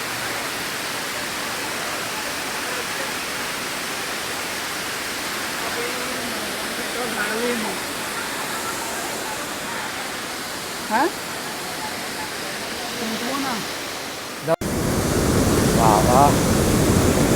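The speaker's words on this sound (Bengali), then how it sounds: "তোপচাঁচি লেকের লক গেট থেকে জল গড়িয়ে পড়ছে" Steady broadband rush of water spilling from the lock gate at Topchanchi Lake, a constant roar that runs throughout, with voices of bathers and brief talk faint beneath it.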